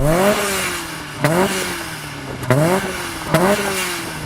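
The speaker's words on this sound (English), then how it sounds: "That's such a sweet sounding little twin cam engine." A Toyota AE86's small twin-cam four-cylinder engine idles, then revs sharply three times, each rise climbing and falling back, close and fairly loud.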